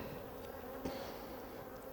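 Honey bees hum in a continuous low, even drone during an open hive inspection, close and fairly quiet with no other sounds.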